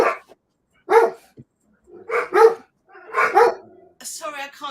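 Dogs bark indoors while someone answers the door, with several loud, separate bursts of barking and pauses between them, mixed with a little talk.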